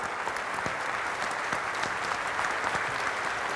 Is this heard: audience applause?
yes